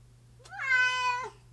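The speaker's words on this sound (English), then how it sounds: "Say meow." A house cat gives a single clear, drawn-out meow, close and distinct, with a low steady hum in the background.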